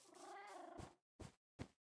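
A Minecraft cat meows three times in a row: a long drawn-out cry first, then two short separate mews with silence between them. The sound is close and clear and stands alone.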